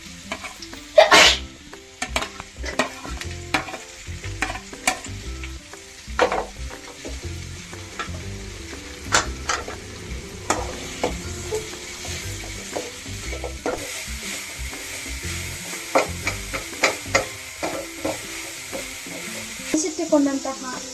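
Food cooks in oil in a pan while a spoon stirs it. A constant sizzle runs under repeated sharp scrapes and clacks of the utensil, with a brief voice now and then.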